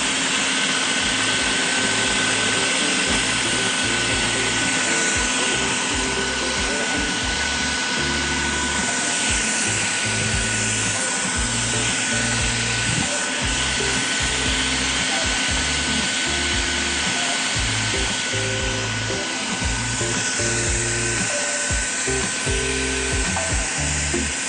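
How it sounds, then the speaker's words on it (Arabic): Food processor running steadily as bananas are added to oats, a loud continuous whirring motor drone throughout, close, with occasional chopping thumps of the fruit hitting the blade. "هضيف الموز واحده واحده على الشوفان وهو شغال في الكبه"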